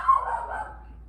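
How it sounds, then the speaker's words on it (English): A single dog bark sounds from outside, somewhat muffled and distant, a short yip-like call that fades quickly into quiet. "Somebody must be walking by with a dog"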